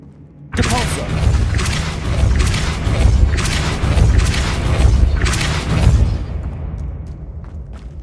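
A Depulso spell is cast in the Hogwarts Legacy video game, setting off a heavy boom that rumbles on with repeated blasts for several seconds before fading into quieter effects.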